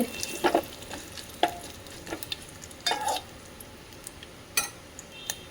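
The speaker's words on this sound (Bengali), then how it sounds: "এখন যে তেল দিয়ে দিচ্ছি ফোড়ন দিয়ে দিলাম শুকনো লঙ্কা তেজপাতা জিরে সর্ষে" Dry red chili, bay leaf, cumin and mustard seeds tempering in hot oil, giving a faint sizzle with scattered sharp pops and ticks of spices and a few light utensil knocks, no voices.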